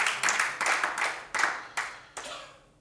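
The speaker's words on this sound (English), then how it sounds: "let's give him a hand clap." Church congregation clapping hands in a few separate bursts, a burst of about half a second roughly every second, fairly close and with no voices over it.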